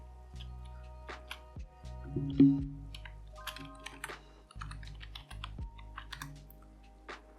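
A password is typed on a computer keyboard: soft, fairly quiet key clicks come in uneven bursts over a low steady hum, with no talking.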